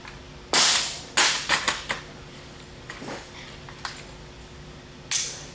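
An ATI OMNI Gen2 rifle dropped muzzle first strikes a hard surface with a sharp, close clatter, followed by several quick rattling bounces and a final knock a few seconds later.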